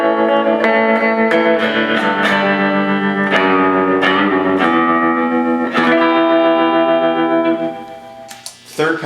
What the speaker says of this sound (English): we've actually got the amp's tremolo engaged and its reverb